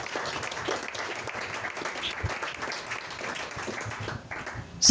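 A church congregation breaks into steady applause, a dense continuous patter of many hands clapping at moderate distance that swells suddenly louder at the very end.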